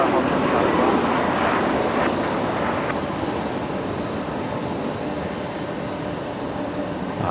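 An airliner lands and brakes hard on the runway at Brisbane Airport, a loud sustained roar of engines and rushing air from a distance that slowly eases.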